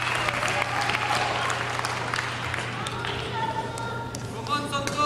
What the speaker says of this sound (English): his spectators also cheering for him, and everyone is cheering for Gade.